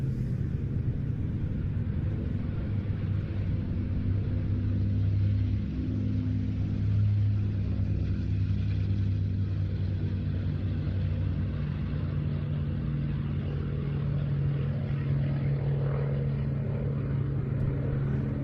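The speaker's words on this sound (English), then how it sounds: "But now the 4 aircraft in our finale, about to roll." A Hawker Fury propeller aircraft rumbles at an airshow at IWM Duxford as it prepares to roll, giving a loud, steady, low engine drone that holds for the whole stretch with no voices.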